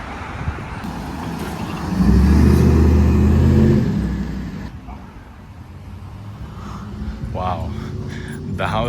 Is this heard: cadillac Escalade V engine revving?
yes